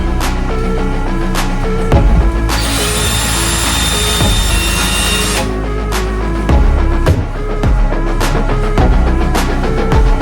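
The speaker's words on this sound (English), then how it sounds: "drill a hole on the other side." A power drill whines loudly and continuously with short pauses, drilling a hole for a magnetic catch, its pitch steady and close by.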